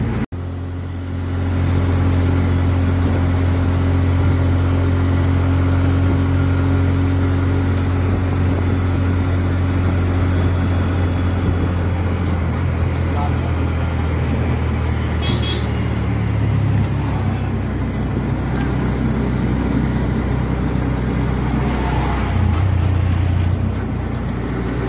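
Engine drone of an auto rickshaw heard from inside while riding on a road, a loud steady low hum with slight shifts in pitch, continuous for the whole stretch with no talking.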